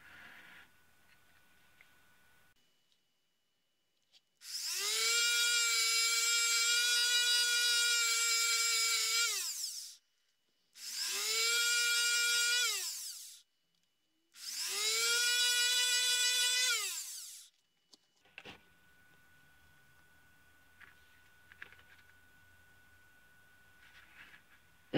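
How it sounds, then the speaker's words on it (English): A small rotary tool trims the top off a Schottky diode in three loud, steady high-pitched whining bursts of several seconds each, separated by short pauses, with quiet room tone before and after. "I'm going to first trim a little bit off the top of the Schottky diode"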